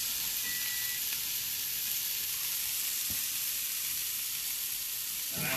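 Thin-cut bacon sizzles steadily in a hot pan, a close, continuous crackling hiss with small pops throughout and no talk over it.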